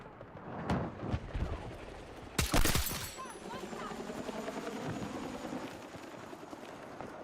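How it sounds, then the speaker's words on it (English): Battlefield 6 video game helicopter rotor thrum running steadily under loud gunfire bursts and explosion-like blasts, with players talking over the action. "Oh, the helicopter's coming back."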